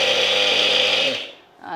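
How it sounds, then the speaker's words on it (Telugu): A kitchen mixer grinder whirs loudly and steadily for just over a second, then cuts off abruptly. "ఈ మిక్సీ చాలా యూస్ఫుల్ ఉందండి కిచెన్లో."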